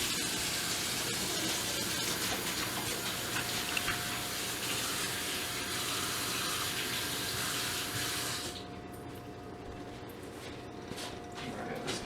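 Hands being washed under a running kitchen tap, a steady, close hiss of water pouring for about eight seconds before it shuts off, leaving faint clicks and handling noises with no talking.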